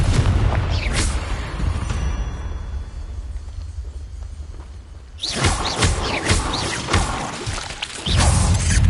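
Explosive Confringo spell blasts and whooshing magic in the Hogwarts Legacy video game on PS5, loud booming impacts at the start and a dense burst of crashing hits in the second half, no talking.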